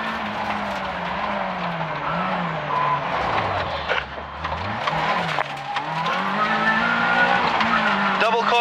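A rally car on a stage at Swinton throwing a handbrake turn through a tight left hairpin, its engine droning and dipping as the tyres skid and scrub, then revving back up hard out of the corner; a co-driver's pace notes run over it.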